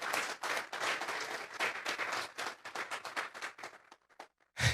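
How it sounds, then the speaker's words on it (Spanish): A church congregation applauds in a dense burst of clapping that thins into scattered claps and dies out, followed by one last loud thump. "Vamos a darle un fuerte aplauso esta mañana al Señor."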